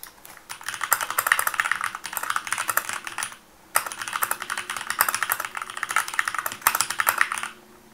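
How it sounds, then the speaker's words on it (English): Fast, continuous typing on a computer keyboard, close and crisp, with dense clattering keystrokes in two bursts separated by a brief pause and no talking. "let's just type in something really long"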